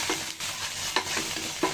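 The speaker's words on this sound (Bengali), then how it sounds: "কাঁচা পেঁয়াজটা ভালো করে ভেজে নিব" Onion paste and masala fry in a pan with a continuous close sizzle, broken by a few scraping stirs of a spoon.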